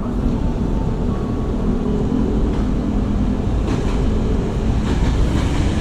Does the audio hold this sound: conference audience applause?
no